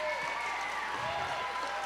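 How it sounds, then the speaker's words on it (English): Audience applause at a youth conference, a continuous wash of clapping with some crowd murmur and a voice or tonal sound running underneath, steady in level for the short stretch. "Big round of applause."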